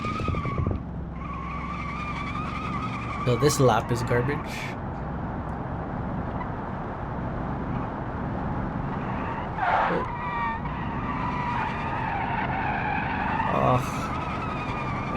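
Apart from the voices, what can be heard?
car tire spinning and skidding in the video game BeamNG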